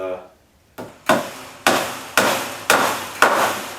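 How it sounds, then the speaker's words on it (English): Staple gun driving staples through mesh around a chicken pen, with five sharp, loud, evenly spaced snaps following a faint opening shuffle. "I just got to go all the way around this and staple it real good, and then cut the excess off"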